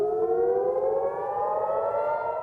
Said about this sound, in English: As sirens wailed